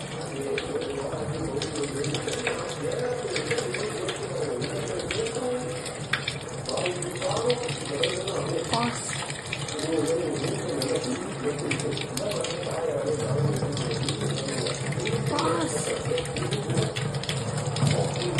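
A vinegar-soaked egg is rinsed under a running tap, with continuous splashing water from a faucet into a sink throughout, fairly close, and some faint background voice or noise beneath.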